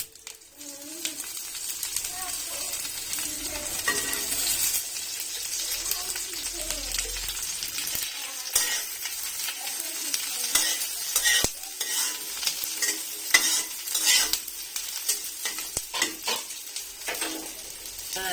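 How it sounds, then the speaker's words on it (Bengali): Garlic sizzles and crackles steadily in mustard oil in a pan while being stirred, with occasional clinks of a utensil; a voice speaks briefly now and then. "এবার একটু অল্প একটু সরিষার তেল দিয়ে ভেজে নেব"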